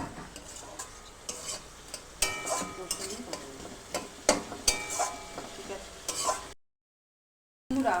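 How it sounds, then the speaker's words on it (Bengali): Boiled cabbage is stir-fried in spice masala, with a close sizzle and frequent metal spatula scrapes and pan clatter, broken by a brief silent gap just before the end. "এবার এটা এর মধ্যে দিয়ে দেবো, ভালো করে কষাবো।"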